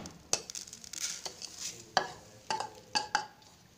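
Spices for a red chili pickle being mixed by hand in a large bowl, irregular scraping, rustling and light clinks of a spoon against the bowl, close and fairly quiet.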